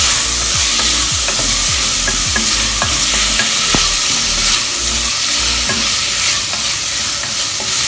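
Tomatoes and green chillies sautéed on a low flame for a Kerala squid roast: a steady close sizzle with repeated scraping stirs of a spatula against the pan, no talking.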